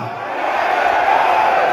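Crowd of regional legislators at a Democrat party technical-training event, a loud sustained roar of cheering and shouting that builds and holds steady throughout.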